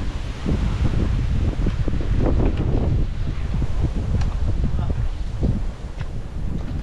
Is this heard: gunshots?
no